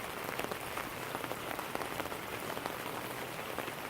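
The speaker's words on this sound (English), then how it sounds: "Listen to that rain." Steady rain falling outdoors beside a chicken coop and run under construction on a chilly day, a continuous even patter of drops with no talking.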